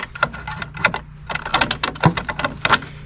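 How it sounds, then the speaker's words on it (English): Metal clicks and ratcheting scrapes come from a bolt being worked into a bracket to mount a horn on a Kubota LX2610 tractor, in close, irregular bursts. "it's a little bit tricky getting the bolt in there and lined up"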